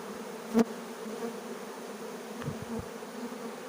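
A swarm of honey bees, the first swarm of 2024, makes a steady, droning hum with a few brief louder buzzes as single bees pass close by.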